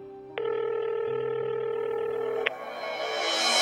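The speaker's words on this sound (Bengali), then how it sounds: "ফোনটা বেজে গেল, কিন্তু কেউ ধরল না।" A telephone rings out unanswered, a single long electronic ring tone held steady for about two seconds, clear and close, followed by a rising hiss.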